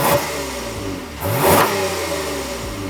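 Engine of a 2023 Lexus ES 350 sedan rising and falling as it accelerates on a drive through Port Dalhousie in St. Catharines, Ontario, heard from inside the car with no talk.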